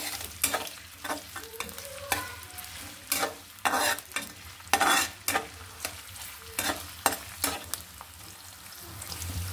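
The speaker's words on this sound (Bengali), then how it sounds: "এখন আমি ভেজে নিব" Chopped onion and slit green chillies fry in oil in a pan, a steady close sizzle broken by repeated loud scraping stirs through the whole stretch, with no talk.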